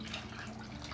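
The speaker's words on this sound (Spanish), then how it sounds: "Voy a estar agregando un poquito de agua de la caliente que tenemos de los frijolitos." Hot cooking water from a pot of beans poured into a simmering stew, a steady one-second splash and trickle of liquid with no voices.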